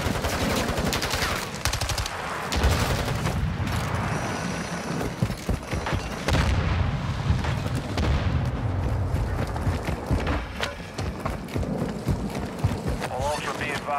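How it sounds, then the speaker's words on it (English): Heavy in-game gunfire from a first-person military shooter, with dense rattling bursts and booms running nearly continuously under voice chat and a player talking. "They're shooting."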